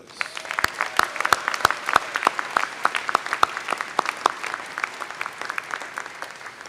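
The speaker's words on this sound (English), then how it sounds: "Let's give them a round of applause." Commencement audience at a School of Education graduation claps in scattered, distinct hand claps that thin and thicken across the stretch, steady and fairly close, with no voices over it.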